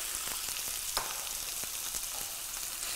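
Cod fries in a hot pan with a close, steady crackling sizzle, with scattered sharper pops and spits throughout and no voices over it.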